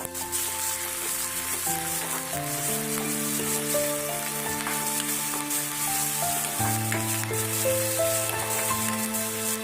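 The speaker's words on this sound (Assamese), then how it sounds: "পিঁয়াজ আৰু নহৰুখিনি কেঁচা গোন্ধটো যোৱালৈকে ভালদৰে ফ্ৰাই কৰি থাকিব" Onion and garlic frying in a pan for dal fry, a steady, close sizzle that continues throughout with no pauses.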